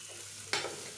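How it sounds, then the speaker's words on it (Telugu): Beetroot frying in a pan over a low flame, a soft steady sizzle broken midway by one sharp stirring scrape that briefly lifts the hiss, close and quiet. "ఇంకా ఇలా మధ్య మధ్యలో కలుపుకుంటూ ఫ్రై చేసుకోవాలి"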